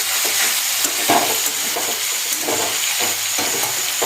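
Chicken frying in a pan with salt and turmeric while it is stirred, a loud, close, continuous sizzle broken by soft scraping strokes of a spoon, with no talking.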